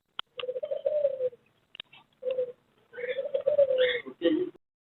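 Fancy pigeons at a Sunday bird market in Chichawatni coo in repeated close, throaty bursts separated by short silences, with sharp clicks and scuffles mixed in.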